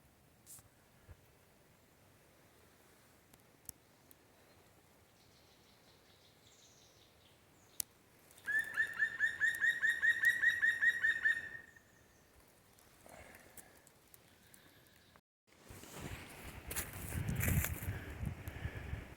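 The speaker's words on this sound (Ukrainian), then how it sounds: "як пташки заходяться" Birds chirp and sing in a forest, one rapid trilling call loud and close, with quieter songs and rustling around it.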